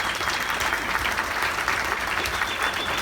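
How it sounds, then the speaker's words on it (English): Steady, dense audience applause at a New Rochelle Chamber of Commerce honoree event, many hands clapping continuously at even volume throughout, with no talk over it. "please give her a round of applause"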